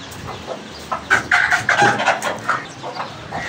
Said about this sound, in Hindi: सुबह सुबह मुर्गी लेके आ गया